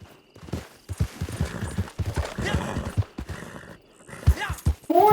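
Rhythmic clip-clop of a horse's hooves galloping in the Western video game Red Dead Online, loud and close with a steady beat, ending in a neigh, with faint game sounds underneath.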